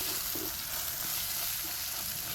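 Chili powder is stirred into a tomato masala frying for a fish curry, a dense continuous sizzle with faint occasional spoon movements beneath it, close and steady, with nobody speaking.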